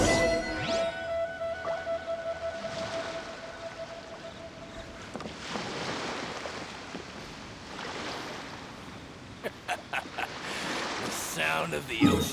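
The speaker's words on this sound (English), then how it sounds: "sound of the ocean waves" Ocean waves wash and surge in Genshin Impact's Path Through the Storm scene, a broad steady roar with swelling rushes and wind, game effects and brief voices layered on top.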